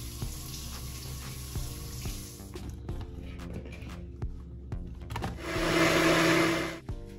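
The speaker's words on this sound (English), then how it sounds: "Cut up the pineapple and add water to that and blend." A blender blending pineapple and water whirs steadily for several seconds, its motor pitch rising into a louder, harsher grind near the end.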